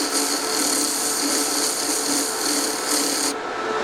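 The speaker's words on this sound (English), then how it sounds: "breaking in new mops here, just get an old file." An old metal file rakes loose fibres from a new polishing mop, giving a continuous, close, rough rasping rub that stays even throughout and then stops abruptly near the end.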